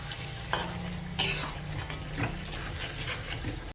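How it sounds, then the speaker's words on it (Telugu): Ginger garlic paste frying in a pan for chicken curry, with a low steady sizzle under scattered clinks and scrapes of a stirring utensil against the pan, including one sharp metallic knock. "అల్లం వెల్లుల్లి పేస్ట్ వేసాం కదండి, ఒక 2-3 నిమిషాలు ఇది పచ్చివాసన పోయే వరకు ఫ్రై చేసుకోవాలి"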